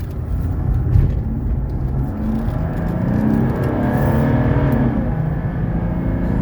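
A 1995 Mercedes E300 engine rumbles steadily and builds as it accelerates around a corner, a low droning roar with rising tone, no voices present.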